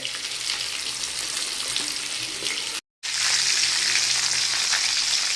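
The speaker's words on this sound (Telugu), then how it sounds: "పీసులు అయితే భలే రోస్ట్ అవుతున్నాయి పైన హెవీ మసాలా లేకుండా" Meat pieces roast in a pan with masala, giving a loud, steady sizzle and crackle that cuts out for a brief moment and then carries on.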